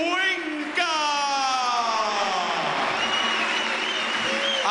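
Arena crowd at an Argentine title boxing match applauds and whoops after a third-round stoppage win, a loud continuous roar of clapping and cheering while a commentator talks over it.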